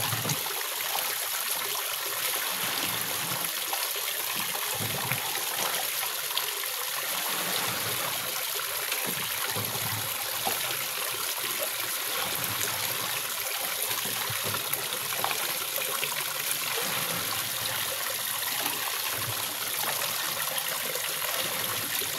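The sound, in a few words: flowing rainwater stream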